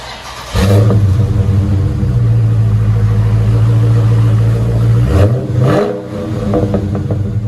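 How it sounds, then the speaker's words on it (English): A Dodge Challenger T/A 392 with a 6.4-liter HEMI V8 idles loudly with a deep rumble, then its exhaust is blipped twice in sharp revs before settling back, close and powerful. "Dodge Challenger TA 392. Really beautiful car. I'll let you guys hear it in a second."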